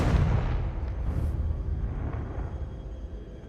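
A Confringo fire spell in Hogwarts Legacy erupts in a heavy, booming explosion that starts at full force and then rumbles and decays over a few seconds.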